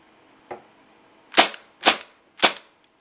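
Three sharp, loud pops from an HFC/TSD MAC 11 airsoft gun on semi-auto, each fired singly with roughly half-second gaps, preceded by a fainter click.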